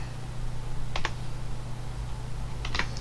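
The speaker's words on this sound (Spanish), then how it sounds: "un atallo de teclado." A computer keyboard shortcut is typed in two quick bursts of key clicks, one near the start and another near the end, over a steady electrical hum with no speech.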